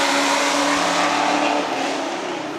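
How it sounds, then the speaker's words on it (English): Cars on an interstate highway give a steady, loud roar of passing traffic, a continuous wash of tire and engine noise that stays dense and even throughout, with no talk. "the cars on the interstate are very loud"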